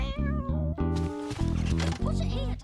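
A cat gives a series of clear, close meows, several drawn-out cries in quick succession, heard alongside a person speaking in a household scene.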